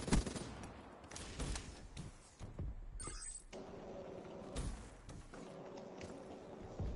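Video game gunfire rattles in dense rapid bursts, sustained and fairly faint, with mechanical clatter mixed through the steady barrage and no talking.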